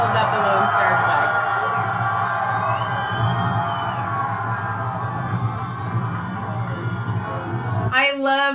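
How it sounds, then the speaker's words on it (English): A crowd cheers and whoops wildly as a man holds up the Lone Star flag, a loud, sustained roar with shouts rising over it and a sharp burst near the end. "And then the crowd goes wild."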